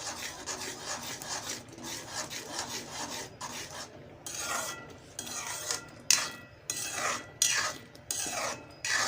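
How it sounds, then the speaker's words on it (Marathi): Spoon scraping and stirring a thick mixture with coriander in a pan over a low gas flame, a steady close rasping with sharper scrapes toward the end, no talk. "चांगलं असं मिक्स करायचं आहे"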